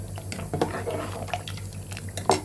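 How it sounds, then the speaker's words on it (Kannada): Water is poured into a pan of cooking sambar masala for a dal-based sambar, giving soft intermittent drips and splashes that sound quiet and close over a low background hum. "ಈಗ ಇದಕ್ಕೆ ನಾವು ನೋಡಿಕೊಂಡು ಎಷ್ಟು ಬೇಕೋ ನಾವು ನೀರನ್ನ ಆ್ಯಡ್ ಮಾಡ್ಕೊಳ್ಳಿ"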